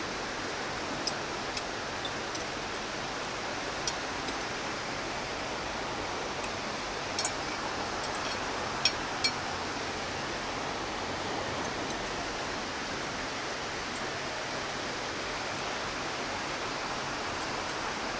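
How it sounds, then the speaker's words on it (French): A small urban waterfall in Umeda, Osaka gives a steady, moderate hiss of falling water, with a few faint clicks and ticks over it and no speech. "On a une petite cascade au-dessus de nous."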